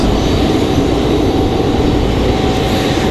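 A jet airliner roars loudly and steadily as it lands at Raleigh-Durham International Airport, a broad continuous engine rush with no talking.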